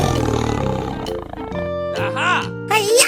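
A tiger in a 3D animal game lets out a loud, close roar, then a couple of strained, rising growl-like calls, all sitting over cheerful game music.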